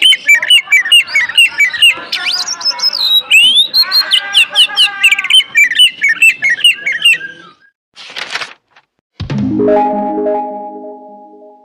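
A Sumatran magpie robin (kacer Sumatera) sings loudly and close, a rapid run of varied chirps, trills and whistled notes, then a pause, a brief burst and a final sustained tonal whistle.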